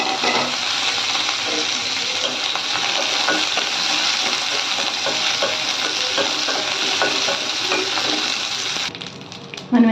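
Curry leaves crackle and sizzle steadily in hot oil in a pan, with stirring, for a tamarind leaf pickle; the loud, dense frying runs continuously and then drops off near the end.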